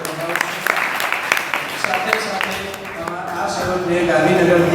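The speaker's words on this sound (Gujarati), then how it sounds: "એ બંને યજમાનોને પણ એકવાર તાળી પાડી." An audience claps at a satsang assembly in the Swaminarayan temple at Kadi. Someone speaks first, then the clapping swells and grows louder toward the end.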